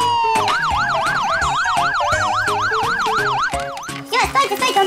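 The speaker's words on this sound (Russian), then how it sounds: "Куки, я вызвала тебе скорую помощь" An ambulance siren wails loudly in a rapid up-and-down yelp, close and continuous for several seconds before trailing off under other noise.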